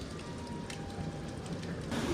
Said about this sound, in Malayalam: അത്യാവശ്യം മഴ പെയ്തുകൊണ്ടിരിക്കുക.